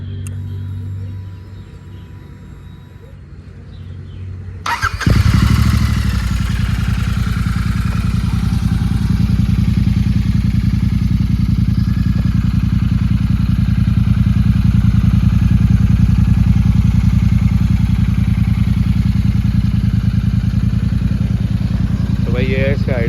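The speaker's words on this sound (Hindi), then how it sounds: "एक बार मैं आपको आवाज़ सुना देता हूँ बाइक की, राइनो रेसिंग के साथ।" A Royal Enfield Super Meteor 650 fitted with a Rhino Racing exhaust starts up and settles into a loud, steady, close idle that holds with a deep rumble for about eighteen seconds.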